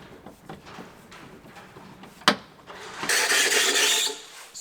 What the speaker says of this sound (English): Squeakiest jack in history.